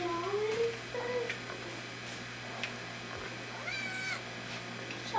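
A cat meows several times in a quiet room during a Christmas morning, the calls moderately close and separated by pauses over a faint steady hum.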